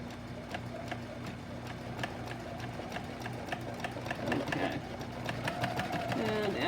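A Viking Husqvarna 1100 sewing machine with a darning foot stitches in a steady, close, rapid ticking rhythm for ruler work, with a low hum underneath and a few faint voices in the room.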